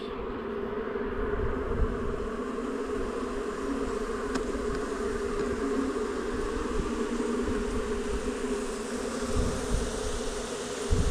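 A swarm of honey bees inside a garden ornament in Norfolk gives a dense, steady buzzing drone, close and continuous throughout, with no voices.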